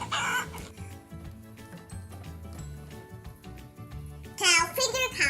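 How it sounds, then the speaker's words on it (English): Clucking chicken in a children's farm-animal sound segment, short bright clucks bursting loudly near the start and again at the end, with a simple musical backing between. "Chicken."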